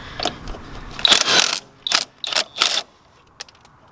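Wrench or ratchet clicking in short bursts while bolts come off the injection pump cover of an old, rotting Mack truck, several metallic rattles and ratcheting strokes up close outdoors, with quiet gaps between them.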